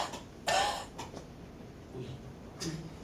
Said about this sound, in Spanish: La tos seca así, de perro viejo.